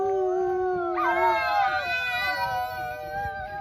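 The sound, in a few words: person imitating a wolf howl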